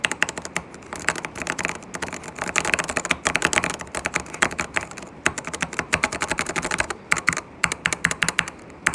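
Quieter mechanical keyboard switches on a 15-key fidget clicker are tapped continuously, producing close, dense, uneven clusters of soft clacks without any talking.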